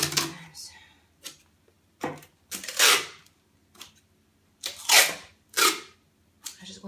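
Tape is pulled off the roll in quick bursts and cut into pre-sized pieces for wrapping a kid's bathrobe as a gift, a series of sharp, separate rips and snips with short silences between.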